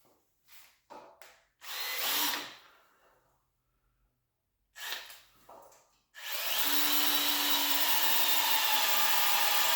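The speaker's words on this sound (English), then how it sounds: "I need to pre-drill a hole, so so the wood not gonna split when I gonna put a screw in it" A power drill pre-drills holes in wood for screws during an SUV third-row seat removal, with short bursts of whirring drilling followed by a long, steady, close run of the motor.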